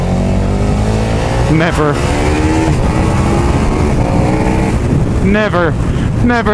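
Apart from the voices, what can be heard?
2020 KTM Super Duke R motorcycle engine accelerating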